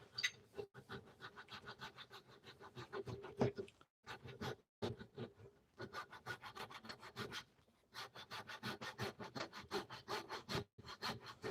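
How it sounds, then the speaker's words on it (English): A coping saw cuts through wood being worked on a lathe, giving a steady rhythm of rasping back-and-forth strokes with brief pauses between bursts, close and fairly loud. "So I'm actually using a coping saw for this"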